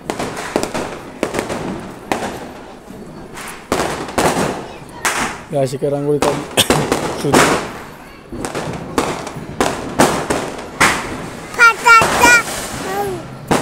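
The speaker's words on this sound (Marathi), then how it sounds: "फटाक्यांच्या आवाजमुळे माझा आवाज कमी होईल तुम्हाला." Firecrackers burst during Diwali in rapid, irregular volleys of sharp bangs, near and far, while a person talks over the noise.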